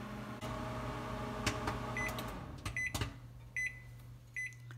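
A microwave oven hums steadily while popcorn pops inside a homemade reusable fabric bag, with a low drone, a few sharp clicks and bangs, and short beeping tones near the end.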